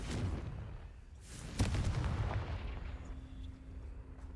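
The Confringo blasting spell in the Hogwarts Legacy video game smashes through walls, giving a sharp, booming crack followed by a rumbling, fading crumble of debris, fairly quiet overall and without speech.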